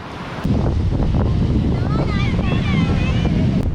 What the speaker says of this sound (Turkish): Efsane bir fırtına var. Çok deli rüzgar var yani.